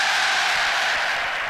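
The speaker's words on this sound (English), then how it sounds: "Seems to get great applause from the Old Trafford crowd" Old Trafford football crowd applauding during a Manchester United versus Liverpool match, a broad, steady wash of distant clapping filling the stadium without a break.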